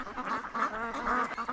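A flock of ducks raised for about 120 days quacks at a family duck farm in Dongbei town, Lianzhou, in winter. The quacks are steady, overlapping and fairly close, with no talk.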